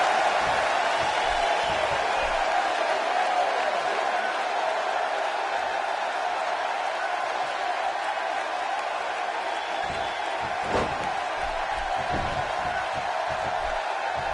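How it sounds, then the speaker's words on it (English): A steady, dense arena crowd roar from a WWE 2K16 wrestling match on SmackDown, a continuous wash of distant cheering and murmur that holds at an even level throughout with faint scattered whoops. "Another electric crowd on hand here for SmackDown"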